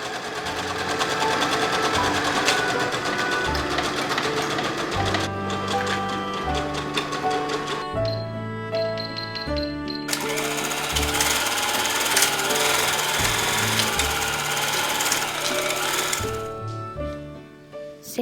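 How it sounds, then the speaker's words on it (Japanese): A sewing machine runs in long bursts at a long, coarse stitch length along the back centre seam of a child's garment sewn from fabric scraps, with brief pauses between runs, close and steady. "ファスナー付け止まりまでは粗い目のミシンで縫おう。"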